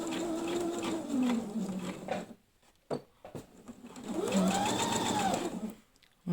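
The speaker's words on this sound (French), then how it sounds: "donc c'est parti pour la couture. On commence par un point d'arrêt." A sewing machine stitching fabric for an advent calendar, beginning with a short backstitch: two whirring runs of the motor rising and falling in pitch, separated by a quiet pause with small clicks.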